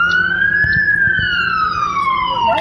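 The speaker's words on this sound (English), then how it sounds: "That's fire truck." A single loud fire truck siren wails in a long, slow rising-and-falling tone, close by, with a faint low engine rumble beneath it.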